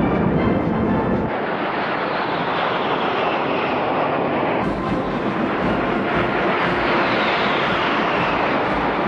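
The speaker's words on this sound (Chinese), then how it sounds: "正在飞过来的是海军航空兵六架歼击轰炸机组成的梯队" A formation of six naval fighter-bomber jets, all-weather supersonic aircraft, passes overhead in a continuous loud roar of jet engines, a broad rushing wash that swells slightly partway through, with no talk.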